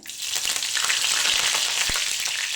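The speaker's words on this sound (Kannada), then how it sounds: "ಸಾಸಿವೆ ಕೂಡ ಸಿಡಿತಾ ಇದೆ ಈಗ ನಾನು ಕರ್ನೆ ಸೊಪ್ಪು ಹಾಕೊಳ್ತೀನಿ ಒಗ್ಗರಣೆಗೆ" Mustard seeds and curry leaves sizzle in hot tempering oil with a bright, steady hiss and scattered small pops and crackles up close, with one sharper snap partway through and no voices.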